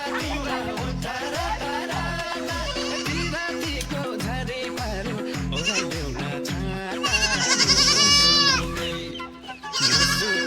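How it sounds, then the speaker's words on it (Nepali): Goats bleat repeatedly at a rural pen in a poor, run-down state, their wavering calls rising loud and overlapping against a steady, busy background with no talking. "मान्छेको बाख्रा"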